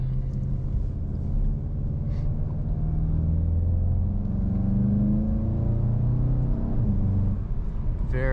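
A 2021 Volkswagen GTI engine, with piped-in cabin audio, hums and rises in pitch as it accelerates through gears on the Autobahn, a steady smooth drone heard from inside the cabin.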